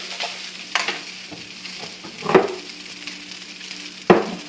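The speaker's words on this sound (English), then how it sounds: "Alright, let that get in there and melt." Butter sizzling in a pan for leftover fried rice, a soft steady fry broken by a few clacks and scrapes of stirring, close and without talk.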